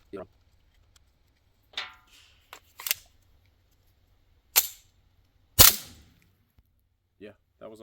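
A suppressed Taurus TX22 pistol fires three separate rounds, each a sharp, muffled crack with a short tail, spaced irregularly over several seconds with quiet gaps between them.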